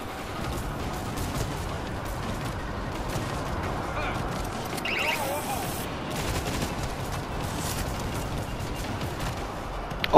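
Left 4 Dead gunfire rattles steadily at moderate loudness as a dense, continuous stream of shots, with game noise mixed in underneath.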